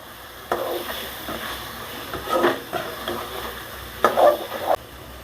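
Egg capsicum kadai masala being stirred in a pan, a spoon scraping and mixing in several uneven bursts with soft sizzling between strokes, close and fairly quiet, no talking.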